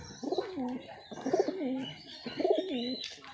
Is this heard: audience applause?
no